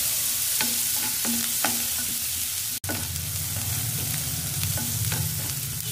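Chopped onions and green chillies sauté in a pan for a tomato egg curry, giving a steady close sizzle with the scrape and clink of a spoon stirring them. One sharp tap lands midway, and no one speaks.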